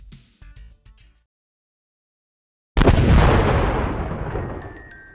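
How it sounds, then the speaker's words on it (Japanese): A gunfire and explosion sound effect plays during a Call of Cthulhu tabletop RPG session. After some brief faint sounds and a silent gap, a single loud, booming blast hits and then slowly decays. "爆音が曇天にこだましている。"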